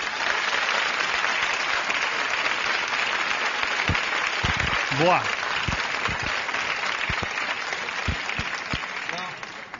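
Sustained studio audience applause and cheering at a Catalan TV charity telethon comedy sketch, loud and steady throughout, with brief voices and a shout mixed in.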